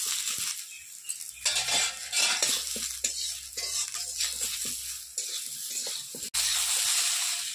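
Ridge gourd and potato sautéed with turmeric in a pan, spoon scraping and clattering against metal in irregular bursts over a low sizzle, close by.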